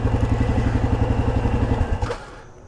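A Yamaha Grizzly ATV engine thrums steadily with a pulsing mid-pitched beat while riding, recorded up close, then drops off abruptly near the end as the throttle closes.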